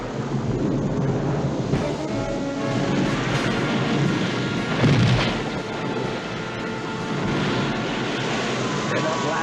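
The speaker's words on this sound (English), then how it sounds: "It's only the thunder." Deep rolling thunder booms in an animated Noah's Ark story, a sustained loud rumble with a stronger crack midway, heavy and continuous throughout.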